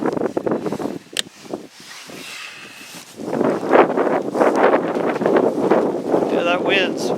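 Outdoor wind gusts buffet the microphone on an off-grid homestead, rising into a strong, steady rush, with a person talking over it.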